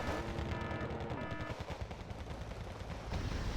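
Distant bursts of 14.5mm machine gun fire in the combat video game Wargame: Red Dragon, fairly faint rapid rattling mixed with other battle rumble and no talking.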